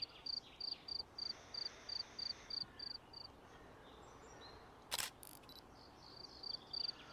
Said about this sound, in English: Okay, that's too many crickets.